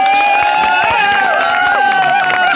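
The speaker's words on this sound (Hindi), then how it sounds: "अब दूसरी तालियां।" Crowd at a trophy ceremony after a final match applauds and cheers loudly and steadily, with shouts and whistle-like cries over dense continuous clapping, voices mixed throughout.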